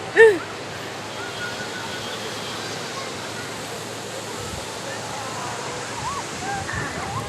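Sea waves wash onto a beach in a soft, continuous roar that holds steady throughout at low level, with one brief bump near the start.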